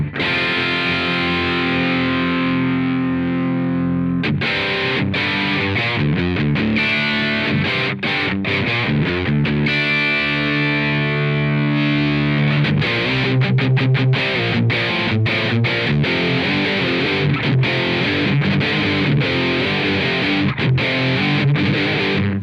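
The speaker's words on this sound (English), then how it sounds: "the orange DS1 style pedal, which sounds like this" An electric guitar played through a DS1-style distortion pedal in AmpliTube 5, strummed chords and riffs with a gritty, fizzy crunch, loud and continuous with no voices.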